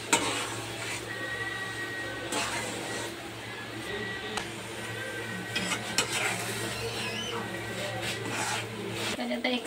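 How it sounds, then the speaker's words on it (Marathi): A spoon stirring a rava mixture in a pan over a low flame, soft continuous scraping and clinks of utensil against metal under a low kitchen hum, with someone talking throughout. "मंद आचेवर टाकून आपण एकदम असं हे करून घेऊया, त्याला ढवळून घेऊया।"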